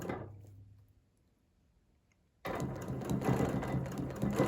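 A sewing machine stitches a quilt line, a short mechanical run that stops, falls silent for over a second, then resumes louder and steady to the end.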